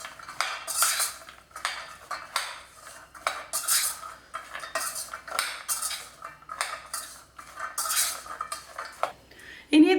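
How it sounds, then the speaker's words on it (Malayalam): Spoon clinking and scraping against a bowl while spice powders are mixed for peanut masala, a close, busy run of repeated metallic taps and scrapes in uneven bursts. "ആദ്യം നമുക്ക് ഇതെല്ലാം കൂടി നന്നായിട്ട് തന്നെ ഒന്ന് മിക്സ് ചെയ്ത് കൊടുക്കാം"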